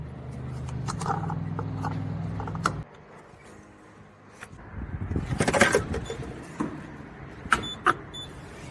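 Suzuki Samurai (Jimny) driving and making a U-turn, heard from inside as a steady low engine drone for about three seconds that then drops away, leaving scattered rattles, clunks and mechanical clatter.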